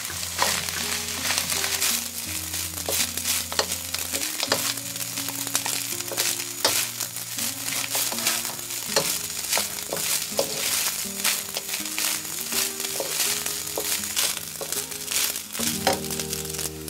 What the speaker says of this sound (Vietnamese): Bây giờ mình nhanh tay cho hết cái chỗ lòng trắng vào luôn. Đảo đều đến khi phần trứng chín hết ha.